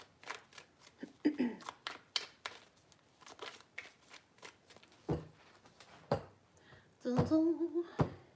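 Tarot cards being shuffled three times, a run of quick papery riffles and soft slaps, close and moderately loud, with some low voice-like sounds near the end.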